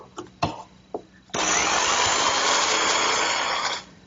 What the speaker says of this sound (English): I'm finishing them up with my handheld jigsaw and the finest, narrowest blade I could find